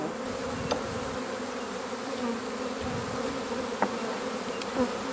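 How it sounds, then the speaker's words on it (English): Honey bees drone in a steady, close buzz from an open single-box hive full of brood, nectar and honey. Occasional faint knocks sound through the hum, with no talking. "There's 1 or 2 dark bees in here too."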